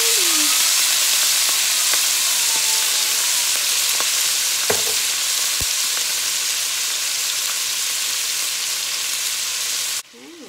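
Marinara sauce sizzles and fries steadily in a hot pan for a meatball sub, a dense continuous hiss with a few faint stirring clicks, nearby and unbroken until it cuts off near the end.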